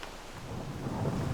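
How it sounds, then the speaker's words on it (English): Rain pours steadily with a low rumble of thunder building underneath, a dense continuous wash of storm noise that swells slightly louder toward the end, with no voices. "Then it started to rain."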